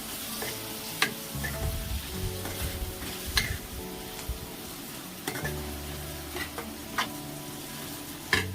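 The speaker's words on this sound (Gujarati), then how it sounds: "તો હવે આપણે આમાં એડ કરી દઈએ રસિયા ઢોકળા અને બરાબર પેલા આને મિક્સ કરી લઈએ" Rasiya dhokla are stirred in a pan in a village kitchen, giving a continuous sizzle with repeated spoon scrapes and metallic taps at irregular intervals, a few of them sharp and prominent.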